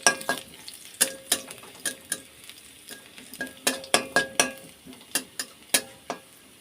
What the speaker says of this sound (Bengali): একটু ভালো করে নাড়াচাড়া করে নিলাম সবগুলো ফোড়ন একসাথে